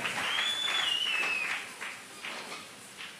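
A church congregation at a prayer gathering applauds and cheers in a loud, continuous wash of clapping with a whistle near the start, fading into softer, uneven bursts of clapping.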